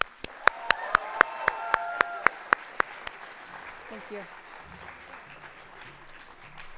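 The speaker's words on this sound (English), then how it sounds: "Please join me in one more round of applause for these wonderful students." An audience applauds student helpers at an evening awards ceremony, opening with a run of sharp, evenly spaced claps close by over a softer spread of clapping that fades into room murmur; a voice briefly speaks.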